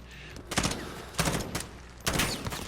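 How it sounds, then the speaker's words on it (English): Gunfire in the game Call of Duty: Modern Warfare, with three bursts of rapid shots arriving from a distance through trees, each burst loud and crackling, separated by short pauses. "he's shooting me through the trees"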